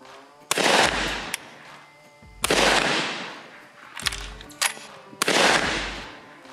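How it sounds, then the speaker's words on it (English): Four loud shotgun blasts from a Browning A5 Sweet 16, a 16-gauge semi-automatic firing 1-ounce loads while held overhead, spaced irregularly about 1.5 to 2 seconds apart, each with a sharp crack and a rolling outdoor echo tail. "Let's try it over the head."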